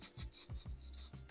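A worn Nissan 350Z clutch release bearing turns roughly, giving quiet, gritty, rasping grinds in several short uneven strokes close up.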